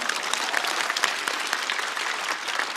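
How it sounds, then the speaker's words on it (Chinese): A studio audience at a comedy roast show applauds with dense, steady clapping that holds evenly for nearly three seconds, fairly close and with no voices over it. "掌声鼓励一下。"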